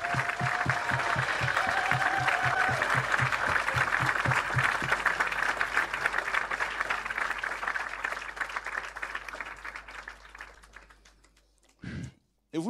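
A church congregation applauds and acclaims the Lord, with steady rhythmic clapping and crowd voices filling the room before the sound gradually fades and cuts off near the end.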